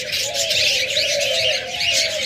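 A crowd of caged budgerigars, cockatiels and lovebirds kept for sale chirps and twitters nonstop, a loud, dense, close chorus with no talk.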